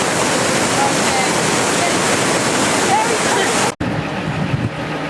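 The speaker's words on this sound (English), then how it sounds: "we're going to go take a picture of this waterfall here, which is seriously raging" A raging waterfall on the way to Milford Sound, New Zealand, roars loud and dense at close range, a constant wash of water that cuts off abruptly then continues more subdued.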